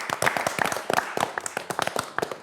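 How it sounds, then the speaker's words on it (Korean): A small group of team members and staff clapping at a workshop gathering, a brief scattered round of sharp claps, close and fairly loud, with no talking over it. "박수."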